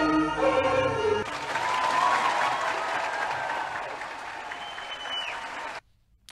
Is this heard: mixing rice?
no